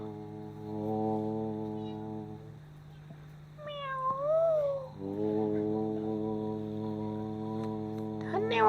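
A drama actor imitates a cat, voicing a few drawn-out, wavering meows with a rising and falling pitch over a steady droning musical background.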